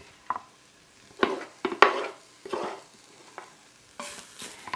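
Garlic going into an Instant Pot while spicy split peas are being cooked, heard as a few irregular scraping stirs and soft sizzling bursts of spoon against the pot, close and fairly quiet with pauses between.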